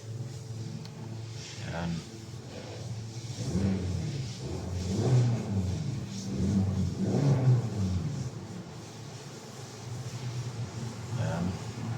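A Hyundai Sonata with a returning check-engine light and a new manifold absolute pressure sensor starts and revs, its engine rising and falling in several surges over a steady idle rumble, with someone speaking briefly.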